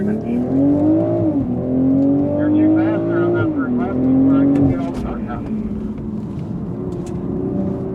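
A BMW Z4 M40i on a race track, its engine droning steadily and rising and falling in pitch through acceleration and shifts, loud and close, with a person talking over it throughout.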